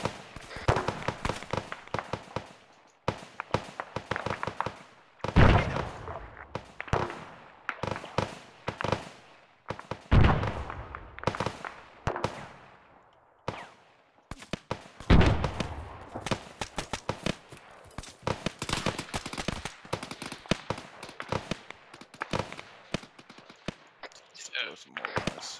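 Gunfire in the military video game Arma 3 during a milsim operation, sharp irregular shots and short bursts crackling near and far over about half a minute, some loud reports standing out, with voices talking now and then.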